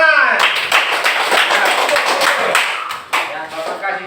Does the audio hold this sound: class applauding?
yes